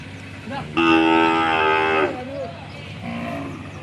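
A calf gives a loud, drawn-out moo close by, followed by a softer, shorter call a moment later.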